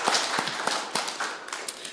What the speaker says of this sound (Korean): 영광의 박수를 드립시다.